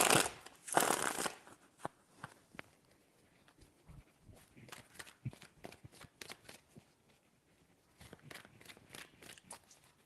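Tarot cards shuffled by hand in quick riffling bursts, loudest in the opening seconds, then lighter intermittent flicks and taps of the deck, close and alone with no talking.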